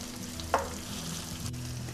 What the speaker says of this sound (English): Okay, as you can see, they're sauteing pretty nicely.